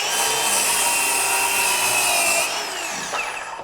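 A Ryobi 18V ONE+ HP brushless 7-1/4-inch circular saw (PBLCS300B) running at 4,300 RPM on a 6 amp hour battery cuts through wood with a loud, high whining drone that drops in pitch and winds down near the end.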